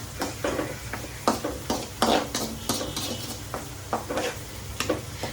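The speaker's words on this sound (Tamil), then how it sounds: "இது வந்து ஒரு ரெண்டு நிமிஷம் இப்படி வதக்கிக்கலாம்" Ground coconut masala sautéing in a pan, a steady low sizzle broken by repeated scraping and clinking strokes of a spatula against the metal, close and alone with no voices.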